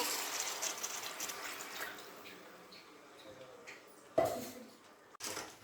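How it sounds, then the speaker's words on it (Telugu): Half a litre of water splashes and pours into a pot of chicken gravy, loud at first then trailing off, followed by a couple of clanks. "2 నిమిషాల తర్వాత ఒక 1/2 లీటర్ వాటర్ వేసుకొని"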